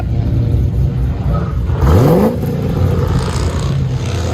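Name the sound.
cammed Pontiac GTO 6.0L V8 revving with Borla exhaust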